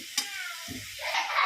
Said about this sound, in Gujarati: જો કેટલી મસ્ત રીતે વઘારી દીધું છે